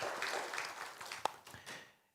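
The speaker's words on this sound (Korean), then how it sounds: "하나님께 영광의 박수 올려드리겠습니다." Congregation clapping in a church after a sermon prayer, a short scattered burst of hands with one sharp clap standing out, fading quickly into silence.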